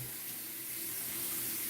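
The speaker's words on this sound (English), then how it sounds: "And we're going to put some cold water on the beard." Cold tap water runs steadily at a bathroom sink to wet a beard after a shower, a close, continuous hissing stream with no talk.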